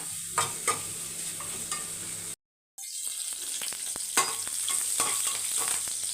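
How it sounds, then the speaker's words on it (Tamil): Curry leaves and a green chili sizzle in hot oil in a pan for tomato kurma, with a steady fry broken by a short gap and scattered stirring scrapes. "கருவேப்பிலை போட்டு நல்லா வதக்கிக்கோங்க"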